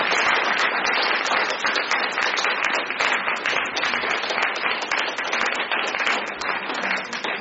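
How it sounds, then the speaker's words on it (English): Audience at a poetry reading gives a round of applause, a continuous, fairly loud burst of many hands clapping that holds steady throughout. "Another round of applause for the readers."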